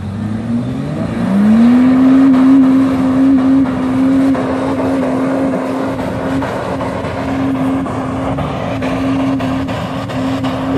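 Car crawling slowly across sand dunes during an organised night dune-bashing session, a steady low engine drone rising in pitch early on and then holding a sustained tone, heard alone without talk.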